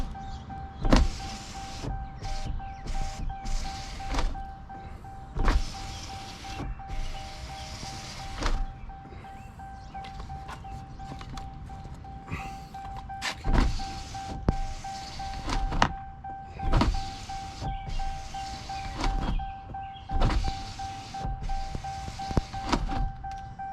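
A power window on a 2022 Ram TRX pickup runs in repeated short motor whirs, stopping and starting with soft thunks as the glass travels and seats, close and fairly loud with no talking.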